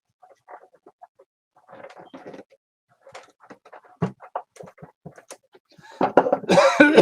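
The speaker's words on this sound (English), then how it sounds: "Got a little cough." A few quiet, scattered clicks and rustles, then a burst of harsh coughing close by near the end.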